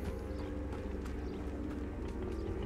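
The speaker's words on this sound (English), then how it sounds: "we have horses, guys, but they're not horses, they're centaurs" Centaur hooves clop in a quick, steady rhythm amid a dense game soundscape in Hogwarts Legacy, moderately loud and continuous.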